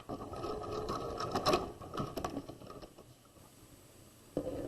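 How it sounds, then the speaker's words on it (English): A sewing machine stitches across a triangular wedge along a drawn line in a tote bag lining, a steady mechanical whir that runs loud for about three seconds, then eases to a quieter hum before restarting. "I'm stitching across the triangular wedge on top of the line that I drew"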